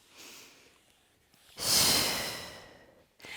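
A person breathes during a stretching exercise, with a soft inhale and then a longer, louder airy exhale, heard close up and alone.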